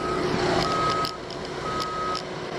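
A dump truck backing up on a construction site beside a trench emits steady, repeated reversing beeps over loud engine and site rumble, with no talking.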